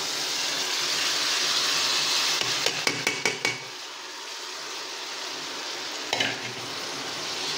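Potatoes tipped into a pan of dried fish frying with garlic, onion and green chilli: a loud, steady sizzle, then a burst of clattering knocks as they land and are stirred, calming to a lower fry with one more clink.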